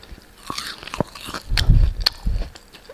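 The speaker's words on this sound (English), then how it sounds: "If you can hear that crunch," Several loud, close crunches of biting into crispy chilli broccoli bites, followed by chewing, with no one talking.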